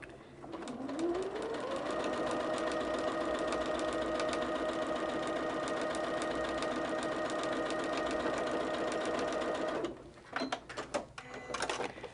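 Sewing machine running a second stitch straight down a quilt seam, one continuous whirring run that speeds up at the start and stops near the end, followed by a few clicks.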